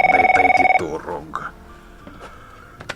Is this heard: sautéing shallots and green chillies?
no